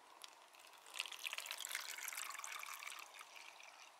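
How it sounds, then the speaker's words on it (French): Vinegar pouring from a container over an egg in a cup, a steady liquid trickle and splash that fills the vessel, close and moderately quiet with no talking. "Donc là, on le remplit avec du vinaigre."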